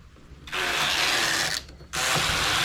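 A knitting machine carriage slides across the needle bed while a round sleeve is shaped with increases, giving two loud sustained rasping, ratcheting passes with a short dip between them and no talk.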